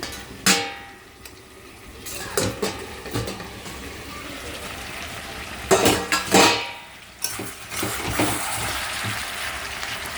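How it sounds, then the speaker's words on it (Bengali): Metal pot lid lifted and clanking against a pot of simmering mutton curry with whole garlic, a few sharp clatters and scrapes over a low background hiss, close by. "এখন আমি ঢাকনাটা খুলে দেখি"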